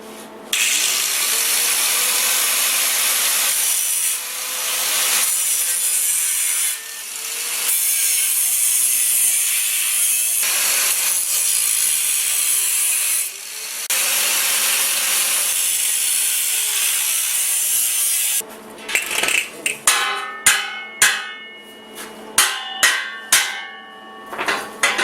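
Wood is notched for the rear bumper rails of a motorhome rebuild, heard as a loud sustained power-saw cut in several passes with short breaks, then a burst of hammering and clattering knocks at the end.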